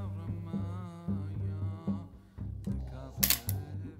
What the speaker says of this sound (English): Fire the shutter.